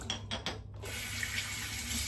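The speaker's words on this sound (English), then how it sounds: "I'll rinse off again with some cool water" Cool water runs steadily from a bathroom tap into a sink during a rinse after shaving a beard with a safety razor, starting with a few brief splashes and then settling into a constant, fairly close stream with no talking.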